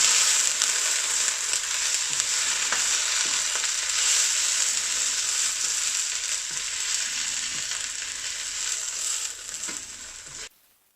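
Fresh methi leaves fry in a pan on low heat with a steady, even sizzle throughout. The sizzle fades at the end.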